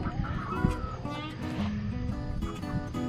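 Orpington hens cluck and murmur in a backyard coop, several soft overlapping calls that continue throughout at moderate volume.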